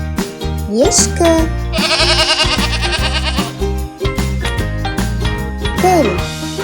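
A goat bleats a few times, short wavering cries near the start and end, set against loud music with a jingling passage in the middle.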